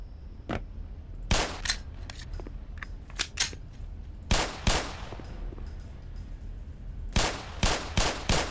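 Gunfire in the shooter game Black Mesa: sharp broadband shots burst out in irregular clusters, some rapid and overlapping, others single cracks, moderately loud over a low background rumble with no talk.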